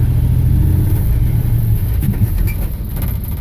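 A 1927 Studebaker rat rod engine, over-choked, runs loud and close with a heavy low rumble, and a couple of throttle blips swell its roar around the middle of the stretch.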